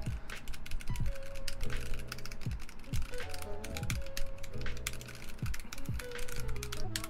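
Typing on a mechanical keyboard, a VEA clone fitted with its keycaps, producing quick, close clacky keystrokes in an irregular stream with occasional pauses.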